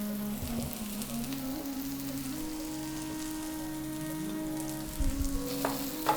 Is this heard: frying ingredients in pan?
yes